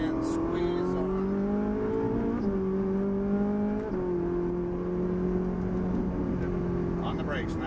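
A Ferrari 458 Italia accelerates hard out of a corner on a racing track, its loud engine note climbing steadily in pitch with two quick upshifts along the way.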